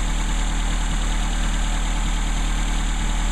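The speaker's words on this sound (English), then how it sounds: "As you can see, it idles great." A 1984 Toyota Hachi-Roku car with an Aisan carburetor vacuum secondary spring mod idles steadily, a smooth continuous low engine hum with even vibration and no talk.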